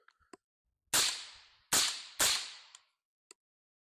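Three gunshots fired through a BOSS Silencers suppressor at a shooting range, heard unprotected from the shooter's position: sharp, loud suppressed cracks, each with a short decaying tail, with faint small clicks before and after.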